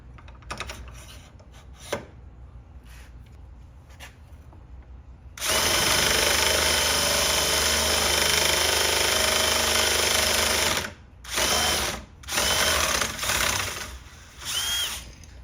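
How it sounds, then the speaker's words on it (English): A power drill with an attachment for bedding a rifle upper receiver whirs loudly and steadily for several seconds, then runs in short bursts. Quieter scraping and knocks come before it. "Put the attachment on here, put it in the drill"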